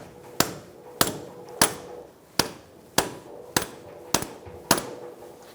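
A hammer taps a CV axle into place on a 2012-2017 Hyundai Accent 1.6L I4, eight sharp metallic strikes at a steady pace of about one every 0.6 seconds, close and crisp with short ringing decays, no talking.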